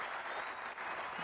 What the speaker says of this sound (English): What a crowd there.